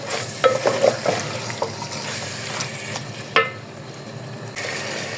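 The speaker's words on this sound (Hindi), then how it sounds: "इसको भी हम इनके साथ अच्छी तरह मिक्स कर लेंगे।" Potatoes and green chickpeas frying with ground white cumin are stirred in a pan, a soft steady sizzle broken by a few brief spoon scrapes and clinks near the start and one sharper knock midway.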